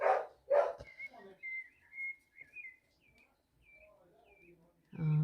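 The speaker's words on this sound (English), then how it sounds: "the dog goes nuts when my husband comes home" A dog barks excitedly in short, sharp bursts up close, followed by high, squeaky whining and whistle-like calls, with a final loud bark at the end.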